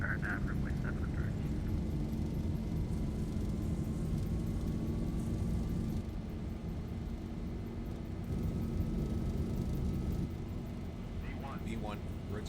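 A Boeing 737-800 in the X-Plane 11 flight simulator rolls down the runway for takeoff, a steady loud jet engine roar filling the whole stretch with a slowly rising whine, while people talk over it.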